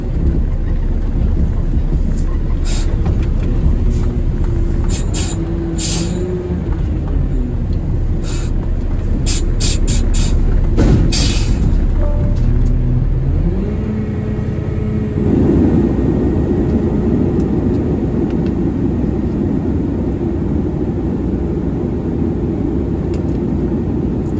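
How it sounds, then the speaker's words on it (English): A truck engine idles steadily while warming up, a loud continuous drone with faint tonal whines that shift in pitch before settling into a higher, even hum partway through, with no talking. "Let the engine warm up."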